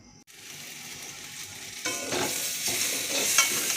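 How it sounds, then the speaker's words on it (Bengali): Water is poured into a pan of sizzling spice masala, and partway through the close frying hiss swells into a louder, bubbling surge while stirring continues; no voices. "কষা হয়ে গিয়েছে, এবার আমি জলটা দিয়ে দিলাম।"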